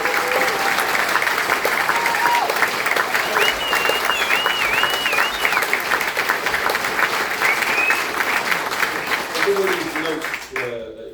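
An audience at a Berwick rally to save a ticket office breaks into sustained, dense applause welcoming a trade union speaker, with a few whistles over it. The applause fades near the end.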